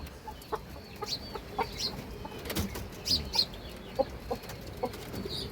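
Chickens at a farm that also keeps pigeons and quail give short, scattered clucks and squawks at moderate distance, with a brief flutter of wings over a low outdoor background, no talk.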